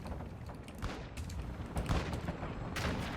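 Distant, muffled gunfire crackles in a Ground War match of the video game Call of Duty: Modern Warfare 2, with scattered shots and short bursts over a busy rumbling battlefield background.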